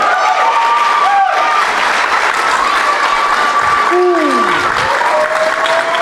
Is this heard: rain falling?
no